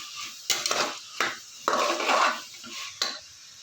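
A spoon scrapes and knocks against a pan while bitter gourd curry is mixed, in several distinct bursts of clattering metal with quiet gaps between.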